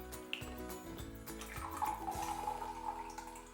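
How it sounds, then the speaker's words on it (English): A carrot smoothie is poured into a glass, a soft liquid stream with light clinks, close and quiet, and no one speaking. "I'll just pour this into a glass as well so you can see the colour of it as well"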